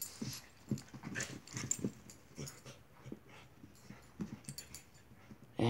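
Dogs make low growls and rough, breathy snarls in short bursts, close by, with panting between them.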